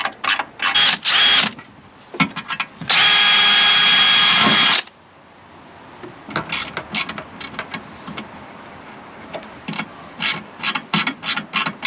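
A power drill bores holes in the inner wing of a Mk6 Fiesta ST150, with several short whirring bursts and one longer sustained run, followed by clicks and rattling handling noises.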